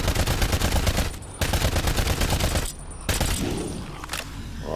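Rapid bursts of gunfire in Call of Duty: Black Ops Cold War Zombies, loud and dense, broken by a couple of brief pauses before the shooting resumes.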